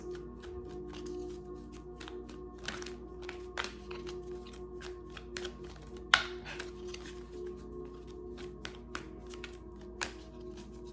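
Soft, repeated riffling and tapping of tarot cards being shuffled, quiet and close, with occasional sharper snaps.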